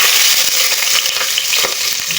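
Chopped onion frying in hot vegetable oil for a Nigerian meat and fish pie filling, a loud, close, continuous crackling sizzle with faint stirring scrapes and no voices.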